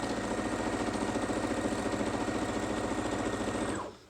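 A sewing machine stitches fabric for a face mask, running continuously with a fast, even mechanical chatter up close before stopping abruptly near the end.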